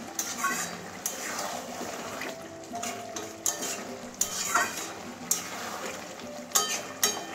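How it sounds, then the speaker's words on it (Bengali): Chopped coriander being stirred into a potato and spinach curry with fish head in a pan, with steady scraping and clinking of a utensil against metal over a soft background sizzle, some sharper knocks, close and moderately loud. "ভালো করে ধনে পাতাটা একটু মিশিয়ে দিচ্ছি, নাহলে ডেলা ডেলা হয়ে থাকবে।"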